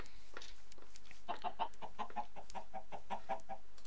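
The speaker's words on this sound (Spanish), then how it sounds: "Mira, un pollo." Chicken clucking in the Minecraft video game, a run of short, evenly spaced clucks following a few fainter ones, with no speech over it.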